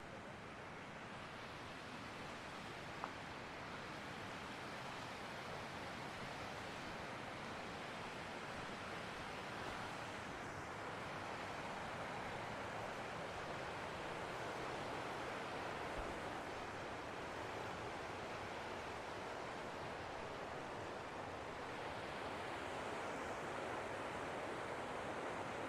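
An underwater spring welling up from under a rock and feeding into a river near hot springs, heard as a steady, even rush of flowing water that never changes.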